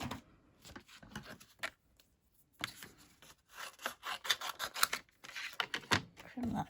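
Paper trimmer or scissors cutting cardstock for a handmade stamped card, several short scraping rubbing strokes in bursts separated by pauses, close and fairly loud.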